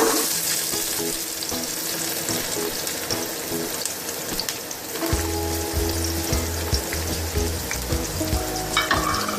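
Onions and whole garam masala hit hot oil for beef kabab biryani, a loud crackling sizzle with stirring scrapes, and a brief running-water sound midway.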